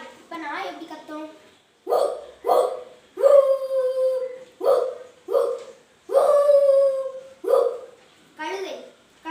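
A fourth-grade schoolboy at a primary school in Manguzhi imitates a dog barking, giving about eight loud, close, yelping barks in an uneven rhythm, alone without other sounds.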